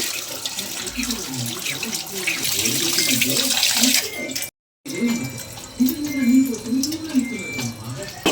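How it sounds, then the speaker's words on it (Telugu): Water runs steadily from a tap, splashing over minced meat being rinsed, while a person talks throughout. "వాటర్తో కడుగుతున్నారనమాట"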